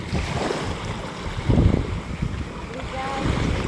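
Sea waves and wind at a seashore, a steady broadband wash of surf with gusty wind buffeting the microphone and a louder surge midway, close and fairly loud.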